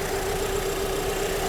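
A Volkswagen Passat GL engine idles steadily during a post-repair test after fuel distributor work, a constant close hum with an even tone throughout and no voices.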